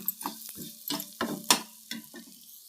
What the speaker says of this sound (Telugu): ఇవి కొంచెం నూనెలో వేసుకుందాం. ధనియాలు, జీలకర్ర, వెల్లుల్లిపాయలు.